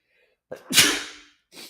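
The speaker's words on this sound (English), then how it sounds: "Sorry, I'm going to sneeze." A single loud, sharp sneeze bursts out close to the microphone after a quick intake of breath, followed by a soft exhale.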